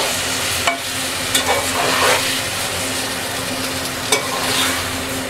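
Tomatoes with spices stirred into a hot pan for tomato chutney, sizzling and frying steadily with a few sharp scrapes and clatters of the spoon, no voices.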